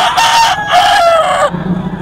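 A rooster at the Bocaue poultry market crows once, loud and close, a drawn-out call lasting over a second. Softer clucking follows.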